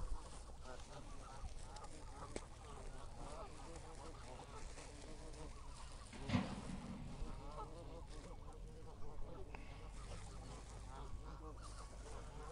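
A flock of ducks honks and quacks in a constant noisy squabble while being fed, close by, with a louder burst of calls partway through.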